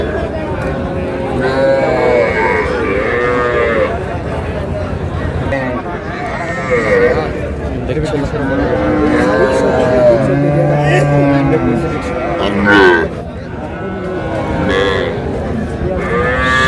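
Cattle, including young bulls, low and moo in a busy livestock market in Munshiganj, Bangladesh, with drawn-out calls rising over steady crowd noise and nearby voices throughout.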